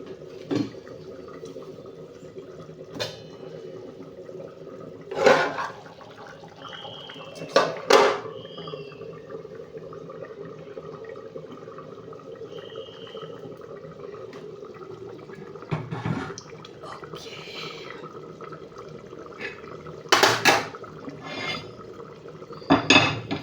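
A cooking vessel is scrubbed and rinsed under running water in a home kitchen, with soft steady water flow broken by sharp clanks and scraping knocks of metal at irregular intervals.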